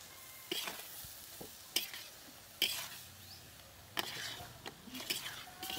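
Grated coconut cooking in a pan with date palm jaggery, stirred by a utensil: soft sizzling under repeated scraping and clinking strokes against the pan at an uneven rhythm, fairly quiet and close.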